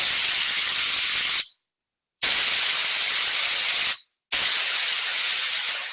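Loud, harsh hissing of a spray gun spraying compressed air at about 26 PSI in three long bursts, separated by brief moments of silence.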